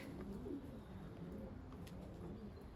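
Young pigeons in a loft flock coo softly and steadily, a low continuous murmur of several birds nearby with no talking.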